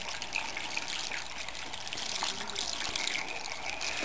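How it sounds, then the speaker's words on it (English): Water poured into a pot for beef stew in a dorm room, a steady close trickle and splash that runs for several seconds at an even level with no talk over it. "and I'm going to pour my water."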